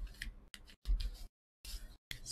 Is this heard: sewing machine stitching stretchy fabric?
no